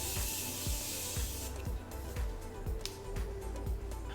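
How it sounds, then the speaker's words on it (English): Makeup setting spray hisses in a steady close mist for about a second and a half, followed by quieter rubbing and light handling noises. "I'm gonna go ahead and finish off the look with a little setting spray."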